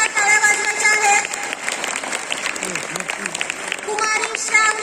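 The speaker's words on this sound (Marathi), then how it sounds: "मुलांनी जोरदार टाळ्या वाजवायच्या आहेत" Students applaud at a school prize distribution ceremony with a dense, steady crowd clapping throughout, mixed with background music tones and a brief murmur of voices in the middle.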